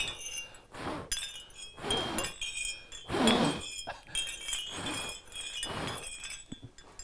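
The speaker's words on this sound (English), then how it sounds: "I want these to be close enough to clink, but far enough away to get some swing" Light ceramic clinks and tinkles repeat irregularly, with soft knocking and rustling as hanging clay wind chime pieces swing and tap together close by.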